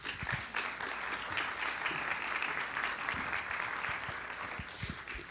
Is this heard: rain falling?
no